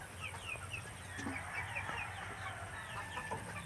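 Chicks and chickens at a rural poultry yard cluck and chirp steadily throughout, with a few brief higher peeps layered over a low constant background hum.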